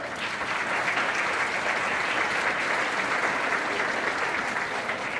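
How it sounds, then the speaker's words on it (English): Sustained applause from a banquet audience at a chamber of commerce economic development dinner, a steady wash of many hands clapping at even loudness throughout. "I want to applaud Greg for that"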